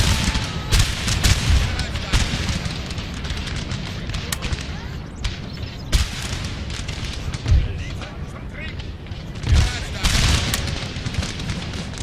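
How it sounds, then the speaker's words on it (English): Musket volleys and artillery booms from a Napoleonic battle in Napoleon Total War, the game fighting a battle for Scotland, rolling continuously with dense overlapping shots and heavy blasts, loud throughout. "Keep firing, lads."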